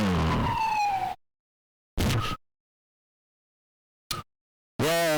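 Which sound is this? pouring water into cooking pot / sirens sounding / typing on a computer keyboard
sirens sounding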